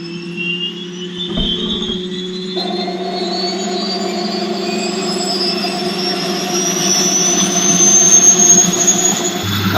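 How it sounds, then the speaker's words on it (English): A jet engine powering a lathe fires up for the first time, starting with a whine and a brief rumble, then settling into a loud steady tonal roar that builds and rises in pitch, with no voices. "So this one's jet powered, and I'm now going to fire it up for the first time,"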